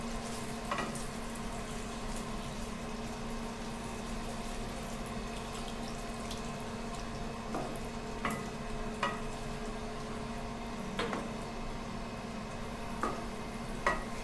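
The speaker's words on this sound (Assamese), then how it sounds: "এতিয়া অকণমান পানী দি হাই ফ্লেমত অলপ দেৰি উতলিবলৈ দিম" Chicken biryani masala with a little water boiling uncovered on high flame: a quiet, continuous simmering bubble broken by scattered soft pops and spits.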